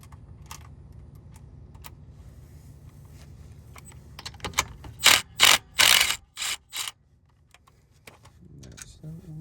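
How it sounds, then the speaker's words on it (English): A ratchet clicks in quick bursts while starter bolts are removed from a Mazda RX-7, starting faint and sparse then turning loud and rhythmic, with someone speaking at points. "now start pulling all these bolts off for the starter and pull the starter out of here."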